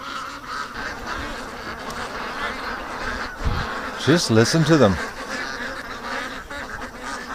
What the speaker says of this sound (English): This is a stress quack.